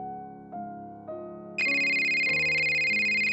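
A cell phone ringtone from the video game Scott Whiskers in the Search for Mr Fumbleclaw, with a shrill electronic ring cutting in sharply and holding steady over stepping background game music.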